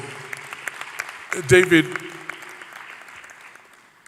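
Audience applause at the All Africa Pension Summit 2025, a short burst of clapping rising under a voice, who keeps talking through it.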